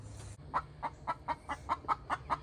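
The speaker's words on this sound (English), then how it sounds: "Guess which chickens have an egg laying song that sounds just like that?" A cream legbar hen on a farm sings her egg laying song, a close, regular series of about nine rhythmic clucks after a brief low hum at the start.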